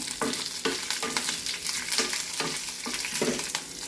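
Green chillies, urad dal and curry leaves frying in oil for a coconut tomato chutney, a loud crackling sizzle with repeated rhythmic stirring scrapes every half second or so.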